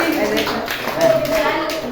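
Children in a Sunday school class at St. James Church in Karunkadal clap their hands, a dense burst of overlapping claps with a voice heard amid them.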